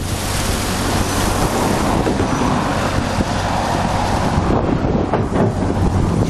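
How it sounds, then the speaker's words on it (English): Water from a discharge pump gushes out downstream in a steady, loud, broadband rush that continues without pause. "Discharge pump is pumping the water coming from the upstream to the downstream using this pump."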